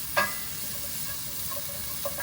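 Ingredients for beef stroganoff sizzle softly in a pan over medium-low heat, with a steady hiss and brief scraping stir sounds near the start and end.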